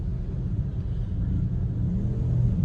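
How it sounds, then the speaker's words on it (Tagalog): Steady low road rumble of EDSA northbound traffic toward SM North, heard from inside a Grab car creeping through congestion, a continuous muffled drone with no voices. "EDSA traffic"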